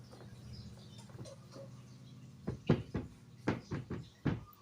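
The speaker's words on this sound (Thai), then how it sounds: "เคาะ เคาะครับ" Knocking on a Samsung 13 kg washing machine during repair of the spin-dryer motor: several sharp, close knocks in an uneven cluster after a low mechanical hum.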